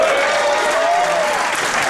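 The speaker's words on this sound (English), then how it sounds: "Y'all don't have to applaud that." Audience applause at a comedy show, a dense burst of clapping that fills the room at close range and stays level for under two seconds before trailing slightly.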